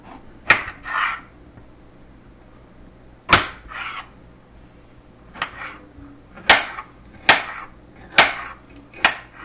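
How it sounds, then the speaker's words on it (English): Knife strikes on a cutting board while a yellow pepper is chopped, about eight sharp, crisp chops at uneven intervals with short pauses between them, close and clear with no talking. "Now I'm going to chop up the yellow pepper."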